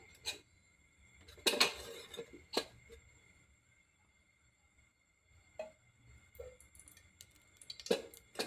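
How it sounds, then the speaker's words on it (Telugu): A pan is set on the stove and oil poured in for sambar, giving a few sharp metallic clanks and clinks of cookware separated by quiet gaps, close by and fairly soft. "ఫస్ట్ బాండి పెట్టుకొని దాంట్లో కొంచెం ఆయిల్ వేసుకుందాం"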